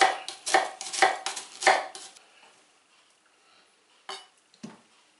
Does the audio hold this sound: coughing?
no